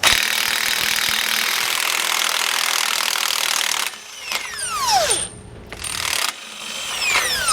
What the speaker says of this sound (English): So I'm going to try my impact gun here and just get this off, just because these are on here super tight.